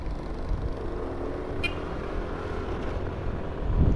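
Road traffic outside a residential gate in General Trias, Cavite, heard from a Mio Sporty scooter: a steady, moderate wash of passing vehicles and engine rumble, with a brief higher-pitched whine midway and a swell of low rumble at the end.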